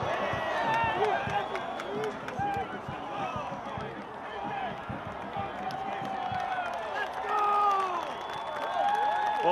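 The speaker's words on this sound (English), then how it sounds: "the crowd sensing that a goal is on the horizon" Football stadium crowd at a Phoenix Rising FC versus Colorado Springs Switchbacks match, a broad roar of groans and cheering swelling after a shot goes over the bar, steady and loud throughout.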